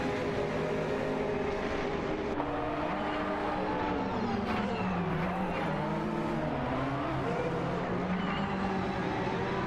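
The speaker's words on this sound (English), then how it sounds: "ST4NBZH and Mainic are piloting a Nissan GTP ZX Turbo" Race car engines from a racing video game, with a Nissan GTP ZX Turbo and a Porsche 962C long-tail on track, make a dense, continuous drone of several overlapping engines whose pitches rise and fall steadily throughout.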